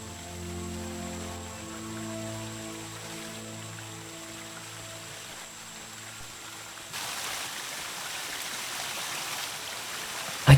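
Flowing water in the video game Ankh 2, a steady stream-like wash that starts soft beneath sustained musical tones, then swells louder and brighter for the last few seconds, with no talk.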